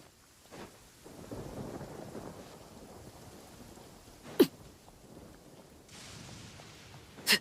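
Thunder and steady rain in the video game Genshin Impact, a low, rolling rumble over a constant hiss of rainfall, with a few sharp cracks standing out.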